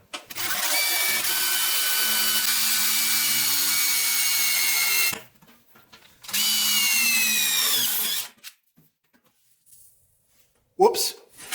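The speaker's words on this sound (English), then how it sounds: "But I'm just gonna drill about 6 or 7 holes along here." A power drill bores holes through the rusty floor of a Jeep FSJ J-10, with two loud sustained bursts of whining, about five and three seconds long, separated by a pause and followed by quiet handling noise.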